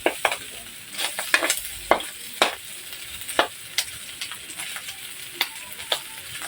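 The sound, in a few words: pork fat sizzling and rendering in a pan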